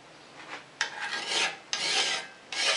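A file rasps across a steel saw plate being shaped into a card scraper, in three or four distinct rough strokes with short pauses between, close and clear.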